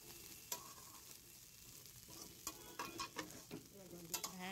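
Rice, spiced with turmeric and cumin, fries dry in a pan, crackling and popping softly while a spatula scrapes and stirs in irregular strokes, close and quiet.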